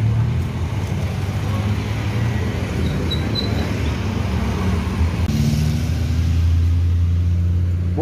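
Intercity Padang–Jakarta buses and private cars crawling along a crowded cross-Sumatra highway, a continuous low engine rumble with passing traffic noise throughout, no clear talk.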